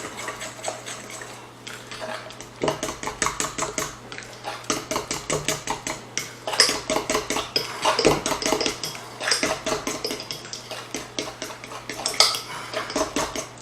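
Keto cornbread batter rich in butter, stirred in a bowl for a low-carb, high-fat recipe, gives steady rhythmic scraping and clinking from the utensil, close and moderately loud with no talking.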